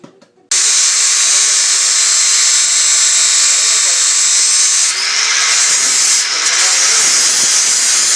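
Angle grinder cutting metal from the brake mount of a 1963 Willys Jeep Gladiator during a front disc brake conversion, a loud, steady, close high-pitched grind running continuously after a brief quiet start.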